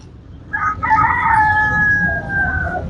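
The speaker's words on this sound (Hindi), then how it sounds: "सर ये चकोर, फार्मी चकोर है, मेल है, अच्छा सा चकोर है" A male farm-bred chukar partridge at a pet market calls once in a loud, close, drawn-out harmonic note with a few stuttering starts, over low market murmur.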